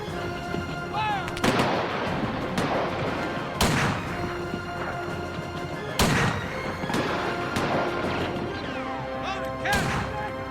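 Cannon or gun volleys after a shouted command to fire: several sharp, heavy blasts spaced a couple of seconds apart, loud and close, each with a ringing decay, and a few voices between them.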